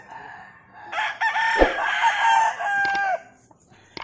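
Boston Roundhead bullstag roosters crowing, one long, loud, close crow drawn out over a couple of seconds, with a few short clucks and clicks around it.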